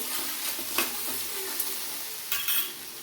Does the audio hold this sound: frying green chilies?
yes